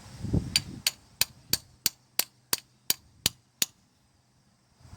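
Ten evenly spaced metallic taps from a hammer striking a Camaro engine part ring out sharp and close in an otherwise quiet garage, after a brief low rumble at the start.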